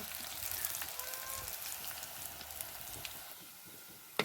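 Dried red chillies and curry leaves sizzle in a pan with shallots for a Kerala-style chicken varattiyathu, a faint steady crackle and hiss with one sharp pop near the end.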